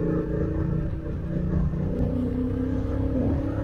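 Honda Africa Twin CRF1000L DCT motorcycle with its stock exhaust, a steady low engine rumble that swells slightly in a revving rise, close and with no one speaking.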